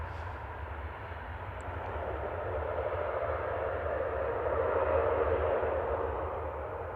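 An ERJ regional jet taxis at Manchester Airport, its engines a steady whining roar that swells gradually as it passes nearby, with no talk over it.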